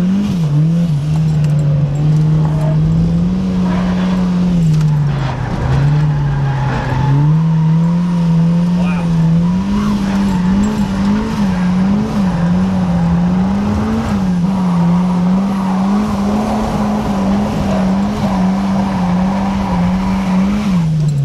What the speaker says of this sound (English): today we're gonna find out if you can drift on spare tires